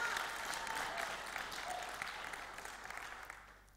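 A church congregation applauds steadily throughout, a dense wash of clapping that holds strong and then tapers off slightly toward the end, with no voices standing out.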